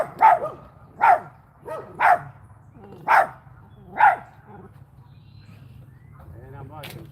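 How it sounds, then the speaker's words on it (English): A dog barks five times at an even pace, about one bark per second, fairly close and loud, at a fishing spot, followed by quieter whimpering sounds. "Noisy dog."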